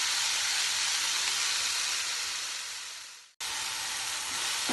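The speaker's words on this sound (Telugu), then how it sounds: "ఆ ముక్కలు కూడా వేసేసి కొంచెం వేగనివ్వాలి." Tomato pieces frying with onions in a pan for a mixed vegetable curry, giving a steady, bright sizzle that fades briefly, cuts out for an instant and then resumes at full strength.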